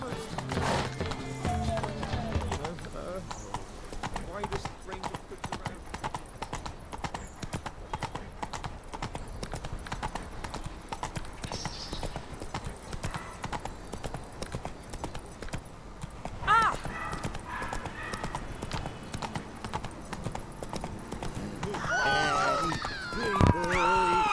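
Horse hooves in The Witcher 3 drum a steady, rapid clip-clop of riding across the whole stretch, close and fairly loud, with occasional voices and a brief whinny-like flourish near the end.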